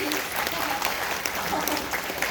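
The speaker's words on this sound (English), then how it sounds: "everyone, a round of applause for both teams" A live audience at a London Science Museum show in Barrow-in-Furness bursts into steady, dense applause for two teams after a rope contest, with a few voices mixed into the sustained clapping.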